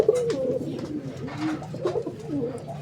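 A pair of Rajgolla pigeons coo in low, rolling, repeated calls close by at a pigeon fair, steady and fairly loud with little else around them.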